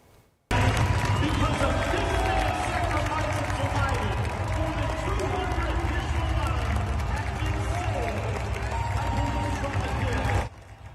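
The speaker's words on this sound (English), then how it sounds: "the crowd there giving Officer Fishburne a standing ovation" A large arena crowd at a PBR bull riding event in Indianapolis gives a standing ovation, a dense, steady roar of clapping and cheering that holds loud for about ten seconds before cutting off.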